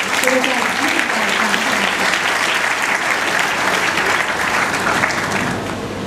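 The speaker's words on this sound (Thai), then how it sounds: "ต่อขอเสียงปรบมือให้อาจารย์" A school audience gives a teacher a steady, loud round of applause, dense clapping that continues evenly throughout, with some voices faintly mixed in.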